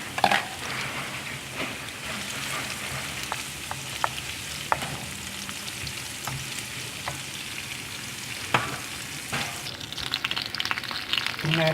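White cumin seeds sizzle and crackle steadily in hot oil for kadhi pakora, with a few sharp spoon-against-pan clicks scattered through; close and fairly loud, with no voices.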